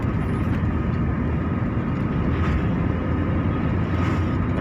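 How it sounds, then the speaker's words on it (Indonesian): Car running fast on a village road in North Sumatra between Silakitang and Siborong-borong, a constant loud rumble of engine and road noise filling the whole stretch with no pauses. "mobil kita kencang-kencang"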